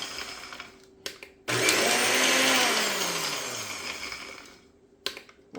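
An electric grinder whirs steadily through a batch of shrimp shells, a loud, gritty buzz lasting a few seconds and slowly winding down, framed by quiet handling clicks before and after.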